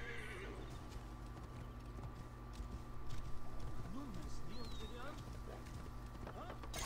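A war horse in the Assassin's Creed Origins video game whinnies and its hooves clip-clop steadily over a constant game ambience, while a voice speaks briefly in places.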